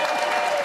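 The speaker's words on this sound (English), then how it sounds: "I'm glad that gets a clap." An audience applauds in a dense, steady burst of clapping during an interview with Felicity Jones, loud and continuous with no speech over it.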